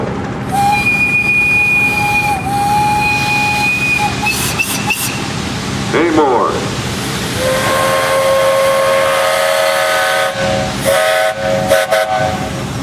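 A steam engine whistle shrieks at a steam threshers show in Darke County, sounding in several sustained tonal blasts, including a bending, wavering one, over engine rumble, with a brief spoken question between them.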